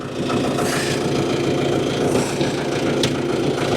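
A 19-year-old tractor's engine idles in park with a steady low chugging rumble and a constant mechanical hiss, fairly close and even in level, plus a brief sharp click near the end and no talking.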